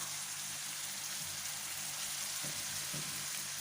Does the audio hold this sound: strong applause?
no